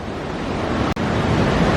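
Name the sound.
rushing water of Niagara Falls, Horseshoe Falls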